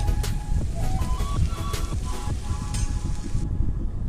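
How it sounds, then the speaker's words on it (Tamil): Chopped tomatoes sautéing in a pan for cauliflower chukka, a steady close sizzle with light scraping and clinking from stirring, with no talk over it. "தக்காளியும் சேர்ந்து கொஞ்சம் வதங்கட்டுங்க."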